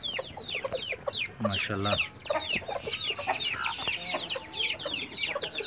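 Desi Aseel chickens cluck repeatedly in a hot-weather breeding setup in Khairpur, Sindh, a busy overlapping chorus of clucks and chirps, with someone speaking briefly in the middle.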